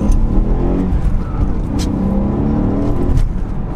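A stock BMW E92 M3 with its V8 engine running, a steady loud close engine drone with a slight rise in revs, heard alone.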